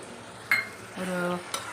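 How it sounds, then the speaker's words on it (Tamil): Boiled double beans tipped into a pan of frying brinjal masala, with a sharp metal clink of the spoon on the pan, a short sizzling stir, then another clink, close and alone. "இப்போ இந்த வேக வச்ச டபுள் பீன்ஸை போட்டுடுறேன்"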